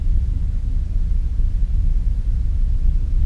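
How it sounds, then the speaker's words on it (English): A temporal storm rolling in during the strategy video game Millennia, heard as a steady, heavy low rumble with a noisy roar that holds at an even loudness throughout. "Temporal storm approaching."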